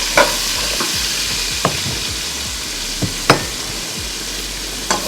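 Potatoes frying in a pan with curry leaves and salt, a steady loud sizzle broken by a few sharp scrapes of a spoon stirring, close up and without voices.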